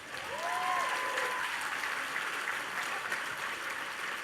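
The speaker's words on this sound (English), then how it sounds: "Give a round of applause for marrying up" An audience at a 2019 annual benefit program claps loudly and steadily for about four seconds, a dense sustained applause with a short whistle-like sweep near the start.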